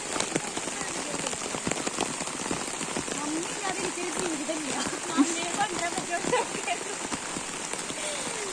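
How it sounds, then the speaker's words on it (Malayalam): Steady heavy rain pattering on a surface throughout, a dense continuous wash with faint voices murmuring underneath. "നോക്കുമ്പോൾ നല്ല മഴയായിരുന്നു"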